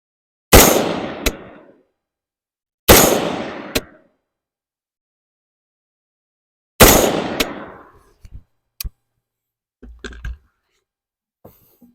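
Shots from a Palmetto State Armory PA15 16-inch 5.56 rifle during sight-in at an outdoor range, three loud, sharp cracks spaced a few seconds apart, each with a short echo, followed by faint clicks and handling noises.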